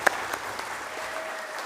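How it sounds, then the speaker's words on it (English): A congregation at a church service for a capital campaign kickoff applauds for its president, with steady, even clapping filling the room throughout. "give our president some applause"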